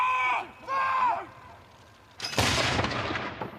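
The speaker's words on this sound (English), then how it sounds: "Gunshots were fired from Nottingham Castle" Ceremonial gunshots fired from Nottingham Castle during an Armed Forces Day parade, a loud sudden blast with rolling echo after a stretch of tonal background sound.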